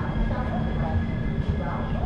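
The Diva–Sawantwadi train rumbles into a station, a loud continuous low roar and clatter under station noise.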